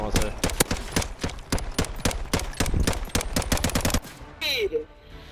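Rapid automatic gunfire from a gun in the video game Call of Duty: Modern Warfare, loud close sharp shots in fast bursts for about four seconds, then stopping as a brief electronic tone sweeps through.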